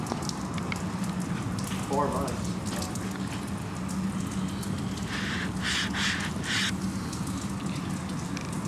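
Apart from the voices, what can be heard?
rain falling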